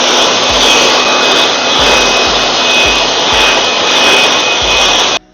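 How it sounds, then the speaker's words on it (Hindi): A handheld dust blower blasts air over a car engine bay, a loud steady hissing rush that pulses in repeated bursts and cuts off at the end, with no talking. "देखिए मेरी जो इंजन पे में थोड़ी बहुत डस्ट है उसको साफ़ करने के लिए मैं ये यूज़ कर रहा हूँ, ये डस्ट ब्लोअर।"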